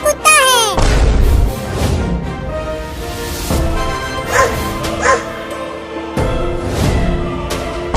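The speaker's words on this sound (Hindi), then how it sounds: "देखो तुम्हारे पीछे कुत्ता है।" Cartoon dog barking in a comedy animation, bursts of yappy barks and whimpers mixed under music and character voices.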